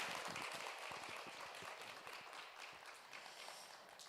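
Conference audience applauds panelists and a moderator at an international women and peace event, a steady wash of distant clapping that slowly fades, faint in the hall.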